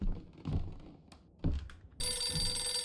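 An old-style telephone bell rings out in the horror game Visage, a sharp metallic ring starting partway through after a few dull thumps and footsteps in a quiet house.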